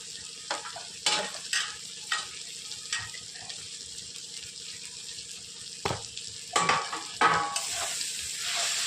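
A leftover chapati dish being stirred and mixed in a pan, with a steady low sizzle under repeated scraping strokes of a spoon and a louder hiss toward the end.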